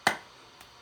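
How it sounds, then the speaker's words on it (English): Classroom students giving a "clap and a half": one sharp, loud clap, then a much fainter half-clap just over half a second later. "Give him a clap and a half."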